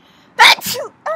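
A girl gives a single sharp, close sneeze, quick and loud, followed by a brief breathy tail.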